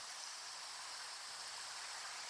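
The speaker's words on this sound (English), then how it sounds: "This used to be a very mild creek." A flooded creek rushes in a continuous broadband roar of churning water, steady and fairly close, with no voices heard.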